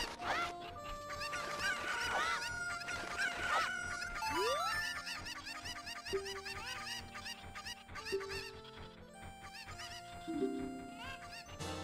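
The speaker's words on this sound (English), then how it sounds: "Can I pick up a cuckoo, please? Like, I had two cuckoos just standing in front of me" Cuckoo chickens in a Zelda game cluck and squawk in quick, repeated bursts over game music with melodic tones, moderately loud throughout.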